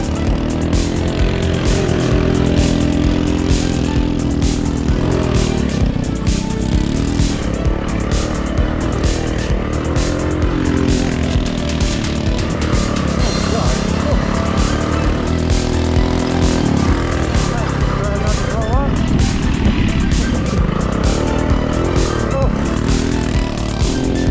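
A cheap 224cc mini ATV races around a dirt track, its small engine buzzing loudly and continuously with rising and falling revs as it accelerates and turns, close by and filling the whole stretch.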